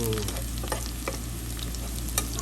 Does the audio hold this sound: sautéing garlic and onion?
yes